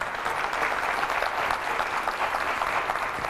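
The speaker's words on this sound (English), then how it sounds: "I wasn't sure I was going to get many claps tonight" Audience applause at a town hall meeting with a congressman, a dense steady clapping from a room full of people, loud and continuous with no voices over it.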